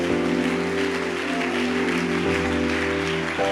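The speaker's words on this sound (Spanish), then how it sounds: "Alguien puede aplaudir a Dios con más fuerza." A congregation at an evangelical church service gives a steady round of applause over sustained keyboard tones, a dense, even wash of clapping throughout.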